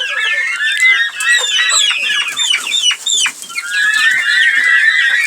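Farm turkeys and young poults mingle together, giving a dense, loud chorus of overlapping high chirps, peeps and clucks that carries on without a break, with no voices.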